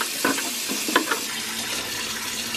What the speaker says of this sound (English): I'm just gonna fill it with coldish water, I guess.